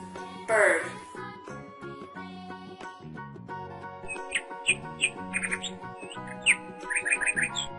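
Bird chirps ring out in quick, bright bursts over a bouncy children's music backing, clustering in the second half with a few rapid repeated tweets.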